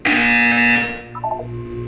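A loud electronic buzzer from the Portal 2 video game sounds for just under a second in a harsh, distorted tone, then fades into a brief faint warbling electronic blip.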